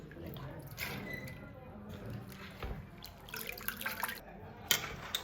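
Water splashes and drains steadily as it is strained off, with a few clinks and small splashes breaking through the running trickle.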